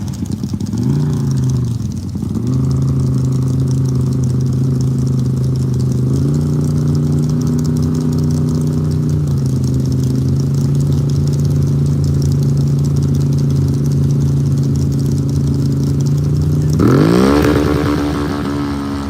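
Belt-driven CVT side-by-side and ATV engines race at a 4 Wheelers drag event, a loud, steady mid-pitched drone that holds for several seconds, shifts pitch slightly along the way, and climbs sharply near the end.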